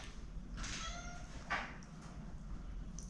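A cat meows once, then a short second call follows, both faint and fairly close against a quiet background hiss, at a seaside home where fish are dried.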